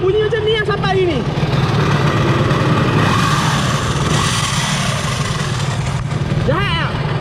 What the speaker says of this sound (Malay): motor aku daripada Langkawi tu bunyi macam ni